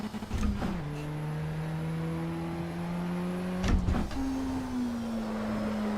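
A race car engine in the driving game Assetto Corsa Evo revs at a high, steady pitch, with quick dips at gear shifts and the note holding near its limit between them, with no talking.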